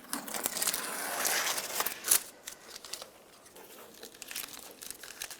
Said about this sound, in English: then you can take the tape off